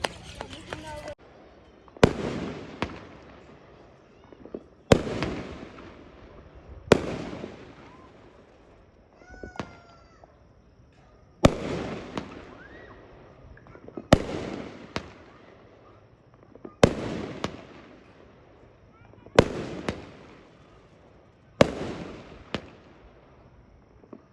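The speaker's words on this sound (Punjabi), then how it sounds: "ਸਾਰੇ ਪਟਾਕੇ" Firecrackers burst one after another at a steady pace, sharp loud cracks with echoing tails, while people chatter faintly in between.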